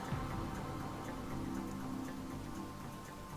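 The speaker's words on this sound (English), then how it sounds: "Oh, it's raining, so the fire goes out." Rain falling in the video game Divinity: Original Sin, a soft steady patter of drops with scattered brighter taps over a low background bed, faint and continuous.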